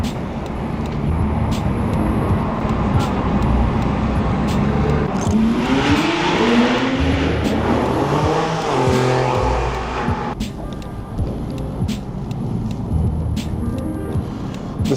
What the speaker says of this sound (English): The sound of the exhaust as it reverberates across the buildings around here is insane